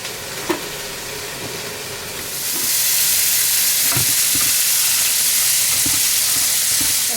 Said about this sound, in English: we wait for the meat to brown up